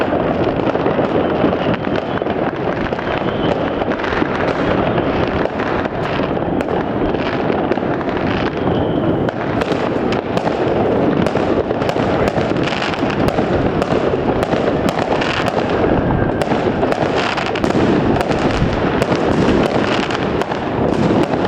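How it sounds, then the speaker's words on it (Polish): New Year's fireworks on Stogi in Gdańsk crackle and pop continuously all around, launched from rooftops, dense bursts near and far with sharp bangs over a steady roar, no talking. "Wszędzie są fajerwerki dookoła na stogach."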